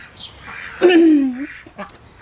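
A pet duck named Fendi, greedy for food, gives a short run of quacks, one strong call in the middle followed by smaller ones, close by with no talk.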